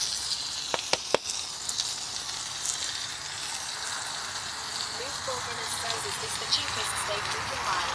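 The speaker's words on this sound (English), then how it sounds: "Sizzle away." The cheapest steak frying in a pan outdoors beside a van, a steady hiss and crackle of fat running under the whole stretch, with a few sharp clicks early on and a person talking briefly.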